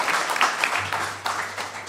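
A live studio audience at the WDVX Blue Plate Special claps steadily to welcome Dave Eggar and friends, a warm patter of many hands filling the room at moderate volume, with a low hum underneath.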